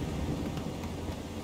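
A thunderstorm at sea in Assassin's Creed IV Freedom Cry brings a dense hiss of rain under low, rolling thunder, steady and fairly loud for a brief moment with no voices.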